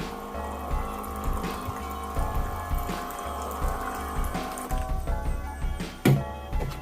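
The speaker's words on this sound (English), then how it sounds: "got a nice little water dispenser" A small rechargeable water dispenser pump on a water container hums and gurgles steadily as water runs and splashes, with a brief louder squish near the end.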